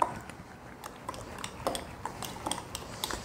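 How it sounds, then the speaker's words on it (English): A blueberry and cornstarch mixture being stirred in a bowl, heard as soft, irregular clinks and scrapes of a utensil against the dish, quiet and close, with no talking. "Then I'm going to stir this all around."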